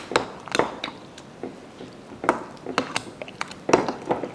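A spoon scrapes and clacks against a bowl while corn souffle ingredients are stirred together, a string of sharp, close taps in an irregular rhythm with quiet pauses between.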